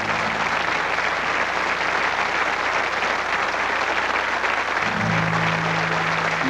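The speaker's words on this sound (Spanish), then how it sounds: "¡Aplausos! ¡Aplausos, ahora sí!" Steady applause from a crowd at a concert fills the whole stretch, dense and even, with a low musical tone briefly sounding underneath near the end.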